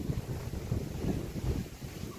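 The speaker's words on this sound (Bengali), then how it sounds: "দেখেছো পুরো কালো হয়ে গেল মেঘে, ঝোড়ো হাওয়া দিচ্ছে" Strong stormy wind blows outdoors under darkening clouds, a loud continuous rumbling buffet with gusts surging and easing, roaring against the microphone with no voices.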